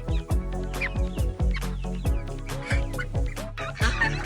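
Young chickens cluck and peep while being put into a mobile coop at sunset, a close, busy series of short repeated clucks in an uneven rhythm, with no talking.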